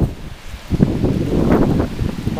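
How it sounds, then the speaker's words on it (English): Strong gusts of wind buffet a tent pitched on rocky ground outdoors, with a steady roaring rush and flapping surges. The sound is close and loud and has no speech over it. "The wind is blowing this thing away."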